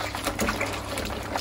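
Running water splashes as a baby bib is washed in warm soapy water, a continuous close gushing and sloshing with small irregular surges, no speech.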